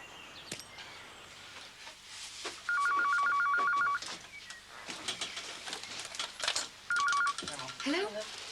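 A telephone rings indoors with two bursts of rapid electronic trilling, a longer one and then a shorter one, clear and fairly close amid background household noise and voices talking.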